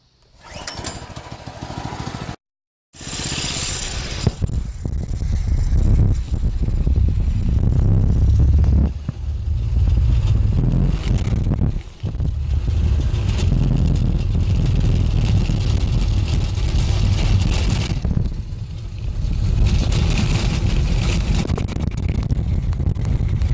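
The engine of a riding lawn mower raised on a 12-inch lift drones loud and close, starting after a brief stall and then running steadily with a few dips and surges as it works up a hill.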